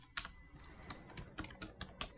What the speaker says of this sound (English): at the first field you can see I'm typing my name